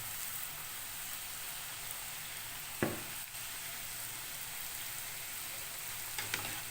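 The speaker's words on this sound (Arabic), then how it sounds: "الزيت سخن مش دافي ولا سخن. هنزل بالقطع بتاعتي" Tortilla chip pieces fry in hot oil with a continuous soft sizzle at moderate distance, broken by a sharp clink near the middle and a couple of small knocks toward the end.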